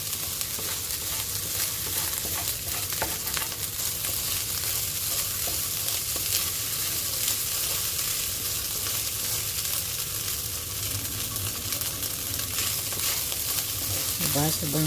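Rice being mixed with turmeric and chili flakes in a hot pan: continuous close sizzling and frying with scraping, stirring strokes throughout.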